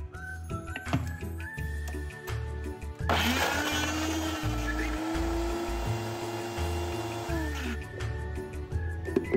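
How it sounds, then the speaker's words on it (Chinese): A kitchen blender grinds finely chopped cassava into a paste, its loud whirring motor starting abruptly partway through and running steadily for several seconds before cutting off, with softer handling noises and faint music before and after. "木薯前后分2次倒入搅拌器"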